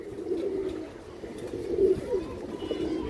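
Silver pigeons cooing, soft repeated low throaty coos close by over faint background noise.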